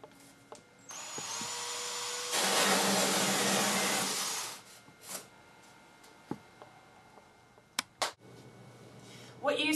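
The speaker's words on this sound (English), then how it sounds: "what we're going to do now is drill a 2 1/8 inch hole with our 2 1/8 inch hole saw." A 2 1/8 inch hole saw cuts through a drop ceiling panel with a loud, roaring whine for about four seconds. The drilling stops and scattered clicks and light handling knocks follow in relative quiet.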